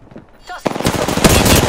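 Rapid automatic gunfire in a battle-royale video game, a close, loud burst starting after a short quiet lead-in and continuing steadily to the end.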